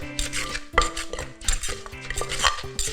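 Spicy Thai bamboo shoot salad is tossed with toasted white sesame and yanang leaf juice in a pot or mortar. Close, repeated clattering, scraping and stirring knocks of a utensil against the vessel come in an uneven rhythm, with no talk.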